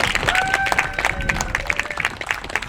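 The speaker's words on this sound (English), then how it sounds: "Can we please give Humboldt County OES a round of applause?" Audience at a water system rebuild groundbreaking ceremony in Rio Dell, California, applauds Humboldt County OES with dense, steady clapping and a few whistles and cheers, loud and close throughout.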